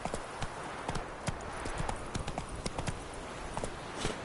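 Roach the horse gallops in The Witcher 3 with a steady, close drumming of hooves over a dense layer of ambient game noise.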